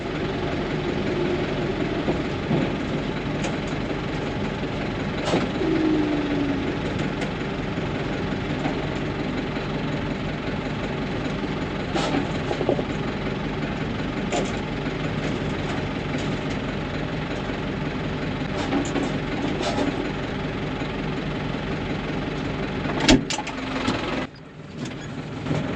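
A heavy tractor engine running steadily while spreading a heavy load on a farm field, a continuous low diesel drone with occasional clanks and knocks, close and loud with a brief dip near the end.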